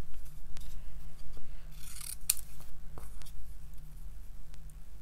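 Scissors snip a small paper piece at close range, a steady run of soft cuts over a low background hum, with no talking.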